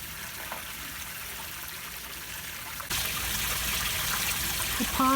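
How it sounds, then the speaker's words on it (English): Water trickling in a backyard pond and creek bed, a soft steady flow that turns noticeably louder and fuller partway through. "There's going to be some fine tuning of the sound of the pond"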